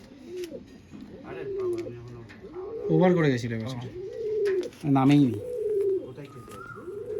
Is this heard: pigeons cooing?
yes